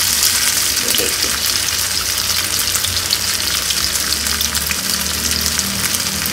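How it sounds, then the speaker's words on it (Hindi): Tandoori soya chaap fries in a pan over medium-low heat, giving a loud, continuous close sizzle with crackling oil throughout. "मीडियम लो पर इसको फ्राई करिएगा।"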